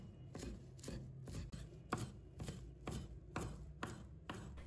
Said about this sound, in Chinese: 把它切成小段。